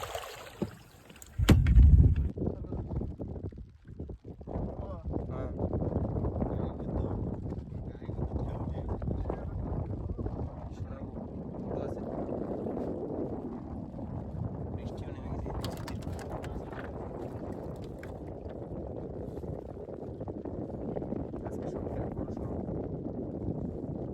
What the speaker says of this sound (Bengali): বৃষ্টি আসছে হাওয়া ঢেউ উঠে গেছে নদীতে